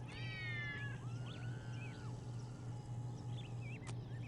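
Dervish cats in the video game Postal 2 meow in several drawn-out, wavering cries over a constant low game hum, with a few thinner mews trailing off later.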